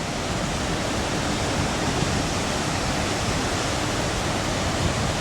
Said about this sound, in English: That river is in high flood. Look at that.